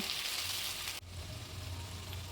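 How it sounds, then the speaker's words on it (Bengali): Potatoes frying in oil in a wok, a soft, steady sizzle that is hissier at first and settles into a quieter, even crackle after a brief dip, with no voices. "সব আলুগুলো আমি সুন্দর করে একটু ভেজে নেবো"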